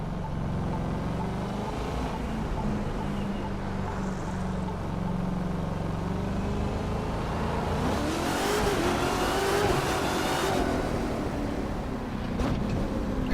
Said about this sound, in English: You hear the supercharger and everything.